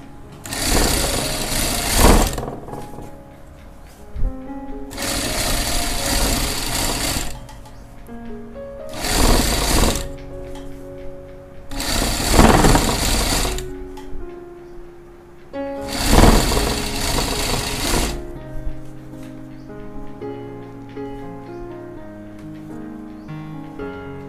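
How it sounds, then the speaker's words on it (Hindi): Sewing machine stitching a koti jacket, close and loud whirring runs in five bursts of a few seconds each, separated by short pauses, with soft background music playing throughout. "सिलाई जिहड़ी आपां लाउणी आ इह सिलाई अपने बरीक लाउणी आ"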